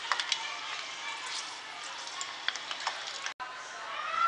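Garlic browning in hot oil while making Maharashtrian raw mango pickle, giving a steady close sizzle with small crackles and pops throughout, briefly cut off near the end before resuming.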